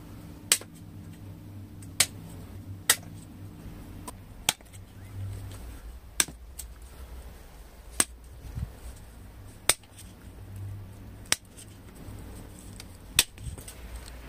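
Pruning shears snip branches of a trident maple jungle bonsai, sharp isolated clicks at irregular intervals of a second or two against a quiet background, about ten cuts with no talk.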